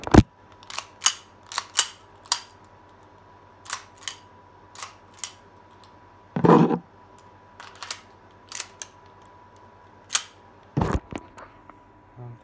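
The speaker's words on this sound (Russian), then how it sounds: "Это обойму вставил. Зафиксировался затвор." Magazine inserted into a gun and its bolt locking, a close run of crisp metallic clicks and snaps with a louder rattling clack midway and a firm clunk near the end.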